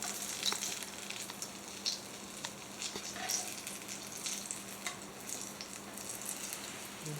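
Sweet potato hand pies frying in hot grease give a steady, soft sizzle and crackle with small pops throughout, fairly quiet and without talk.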